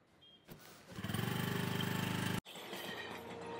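A vehicle engine cranks and catches, settling into a loud rhythmic chugging idle, cuts out abruptly, then resumes a rougher running drone as the riders pull away.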